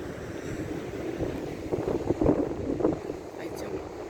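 Strong, cold wind blows outdoors during a street walk, producing a low rumbling buffet against the microphone that swells in gusts. Faint voices sit under the noise.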